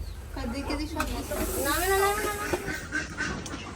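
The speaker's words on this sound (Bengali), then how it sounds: "হাঁসগুলা" Domestic ducks raised by a family give a run of nasal, wavering calls, close and moderately loud, over a hissy background.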